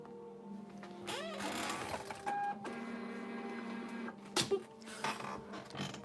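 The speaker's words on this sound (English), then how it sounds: "Mr. Keith, let me get this label. And we'll print." Printer feeding and printing a shipping label, a close mechanical whir with rising servo sweeps, clicks and a few sharp clacks across several seconds, no speech.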